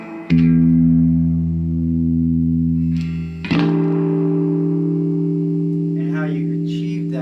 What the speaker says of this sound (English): when you turn up a tube amp, it starts to get what's called a breakup, like a natural distortion